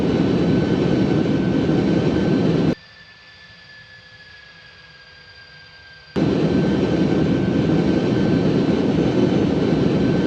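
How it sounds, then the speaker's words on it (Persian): An Airbus A300-600 jet in the X-Plane 12 flight simulator turns toward the runway with a loud, steady cockpit engine roar and a high whine, cut briefly to a quieter hum before the roar returns. "هواپیما خودش رو تنظیم میکنه و جهت رانوی CLF اونطور که ملاحظه میکنید گردش میکنه"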